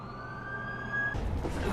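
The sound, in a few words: ambulance siren in video game The Amazing Spider-Man 2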